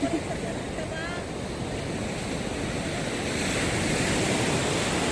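Ocean surf breaking on a beach in Real, Quezon, a continuous close wash of waves mixed with wind buffeting the microphone, growing slightly louder toward the end.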